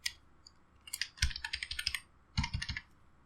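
Someone types code on a computer keyboard, close by: quick bursts of crisp key clicks with short pauses between runs.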